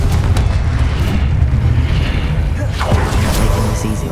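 Confringo explosive spell blasts in Hogwarts Legacy, a loud continuous booming rumble with crackling bursts filling the whole stretch, and a sharper impact near the end, dense and close throughout.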